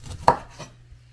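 A kitchen knife chopping through tankan citrus fruit for jam, giving one close, crisp cut followed by a fainter second one and then a quiet tail, with no voices.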